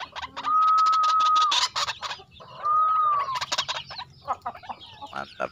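Loud, repeated harsh calls from a white-breasted waterhen, two long sustained phrases followed by choppy clucking notes, close by.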